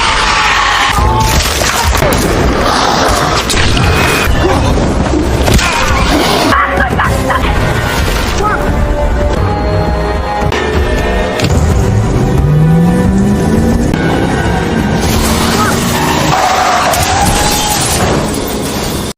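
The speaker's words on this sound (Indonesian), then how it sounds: "mendengar suara kecelakaan mobil, Julia yang khawatir bergegas mengeceknya." A car crash with skidding in an Australian outback setting: a long tire skid sweeps upward mid-way amid loud engine noise, booming impacts and barking dogs, with some talk underneath.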